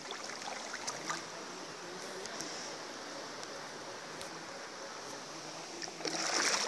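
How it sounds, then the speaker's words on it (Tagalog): Water rushes and splashes in a steady, low-level wash of noise with faint intermittent clicks, swelling slightly louder at the end. "Tubig yun."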